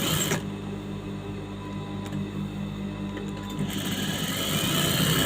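A sewing machine runs steadily as it stitches lining onto a churidar top at the neck, with a constant close mechanical whir that holds throughout without pause.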